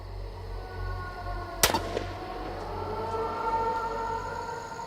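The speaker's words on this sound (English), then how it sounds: "Gunfire is a sound that no one takes any notice of anymore." One sharp gunshot cracks out over a steady low rumble, followed by a few faint echoing pops, then the background hum continues.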